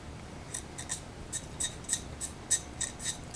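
Hand chisel carving a block, a series of about a dozen short, crisp scraping strokes in an uneven rhythm, close and fairly quiet.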